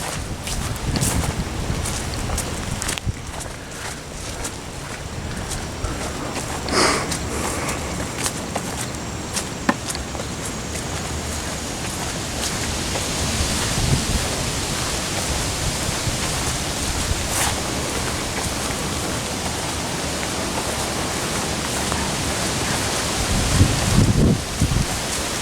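Steady rain falls on a hiker walking a muddy forest trail, a continuous broadband hiss with wind buffeting the microphone and occasional heavier patters, no talking.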